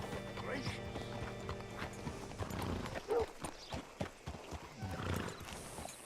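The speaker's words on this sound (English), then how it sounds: "Hitch your horse up here." In the game Red Dead Redemption 2, a horse's hooves clip-clop at a walk and it gives a short whinny, close and fairly quiet, while characters talk over it.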